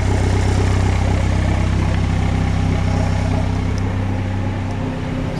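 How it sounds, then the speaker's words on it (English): A warmed-up Honda Civic engine from a 500 hp build idles steadily with a deep, even rumble that stays loud and close throughout, with no voices. "now that the engine's warmed up"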